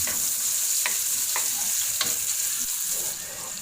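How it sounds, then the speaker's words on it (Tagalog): Onions sautéing in a hot pan, a steady close sizzle with a few light scraping stirs of a utensil, no voices. "Sa paggigisa ng sibuyas, kailangan lang natin itong makita na maging translucent at saka natin isusunod ang bawang."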